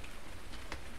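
Steady rain in the video game Farming Simulator 19, a brief, even hiss of falling drops with no other sounds.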